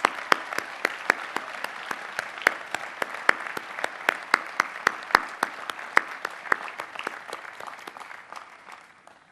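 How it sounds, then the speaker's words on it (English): Audience applause at a Rensselaer Polytechnic Institute commencement ceremony, dense steady clapping from a large crowd lasting throughout and tapering slightly at the end, with no talk over it. "Please join me in giving these extraordinary scholars a round of applause."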